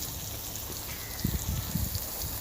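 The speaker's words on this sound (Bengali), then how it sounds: "তো বড়াটা ভাজা হচ্ছে প্রায়" Chickpea lentil fritters bubble in hot mustard oil with a steady, close, rain-like hiss, joined partway through by a few dull low knocks, and no one talks.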